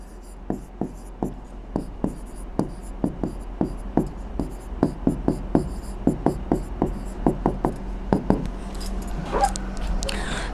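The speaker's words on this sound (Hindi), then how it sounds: "तो हम यहाँ पे यही लिखेंगे शेप इज" Writing on a board during a biology class: a steady series of sharp, evenly spaced taps and strokes as the marker or chalk moves, moderately close, with a faint background hum and no talking.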